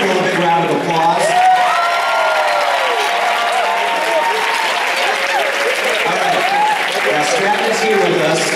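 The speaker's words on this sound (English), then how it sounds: "give your principal a big round of applause" Students applauding and cheering for their school principal, a sustained dense clapping crowd with whoops and voices mixed through, loud and continuous.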